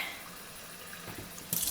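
Tap water runs steadily into a plastic bag being filled to weigh down cabbage for sauerkraut, a soft close splashing that grows louder and brighter near the end.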